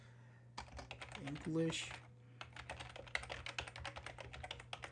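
Rapid clicking of a computer keyboard as a web address is typed, fairly close and quiet, a steady patter of keystrokes after a brief spoken remark.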